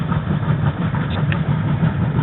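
A repaired washing machine motor runs after an overload fix, a steady low mechanical hum with a slightly churning rhythm, close and continuous throughout.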